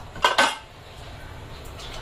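Pots clatter as a pressure cooker is set up in a kitchen while mutton simmers: two quick, close metallic clanks of cookware, then a low, quiet background hum.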